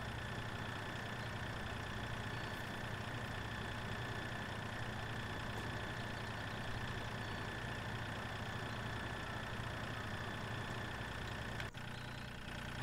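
A tractor engine in the Farming Simulator 2013 game drones at a steady idle, continuous and unchanging for the whole stretch, with only a slight shift near the end and no voices.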